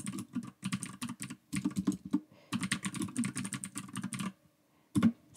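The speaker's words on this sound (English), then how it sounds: "And we'll continue to type." Rapid bursts of keystrokes on a computer keyboard while entering text and citations in a reference manager, clustered in quick runs with short pauses between, close and clear with no talking.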